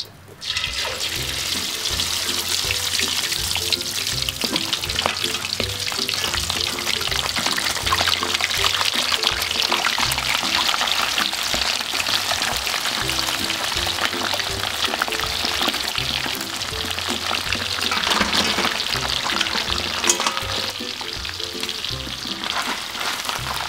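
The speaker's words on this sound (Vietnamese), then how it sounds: "Bây giờ mình cho cua vào mình chiên nha." Crab pieces fry in hot oil in a pan, a loud, continuous, close sizzle and crackle lasting throughout with no talk.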